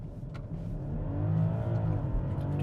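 Heavy BMW car accelerating from inside the cabin, with a steady low engine drone that swells and rises in pitch as it pulls, close and continuous, without talk.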